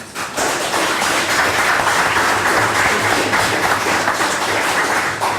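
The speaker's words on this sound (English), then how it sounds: "I'd like to give a round of applause" A crowd applauds steadily, dense clapping from many hands holding at an even level throughout, fairly close and loud.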